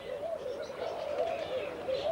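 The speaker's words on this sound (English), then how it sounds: "a sort of pigeon thing. Fantail pigeon, I think they're called." A fantail pigeon at a snake and bird park coos softly and continuously in a low, steady murmur, with faint background ambience and no talking.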